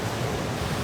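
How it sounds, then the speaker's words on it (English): Wind blows along the coastal waterfront at Dallas Road in Victoria, a brief, steady, loud rush of broadband noise buffeting the microphone with a surf-like roar. "The wind is kind of throwing me off today."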